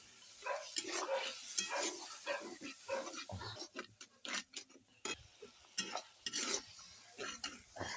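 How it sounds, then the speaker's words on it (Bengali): Bottle gourd stems and potatoes stirred in a pan with a spatula, a steady run of scraping and clatter over a soft sizzle, close and moderately loud with no talking. "সব একসঙ্গে ভেজে নিয়েছি ভালো করে, আবার ভালো করে নেড়ে দিচ্ছি।"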